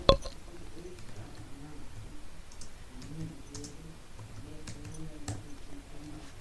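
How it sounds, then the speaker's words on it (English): Soft, irregular tapping of keys on a computer keyboard, a quick run of light clicks with faint murmuring in the background. "Now we can type the keyword."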